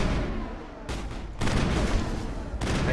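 Enemies open fire in the video game Mass Effect, a dense, continuous burst of gunfire that drops briefly, then returns louder and sustained, with no talk over it.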